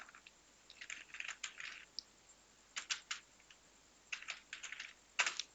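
Quiet, close clicking of typing on a computer keyboard while filling in an income, caste and domicile certificate form online, with irregular bursts of keystrokes and short pauses between them.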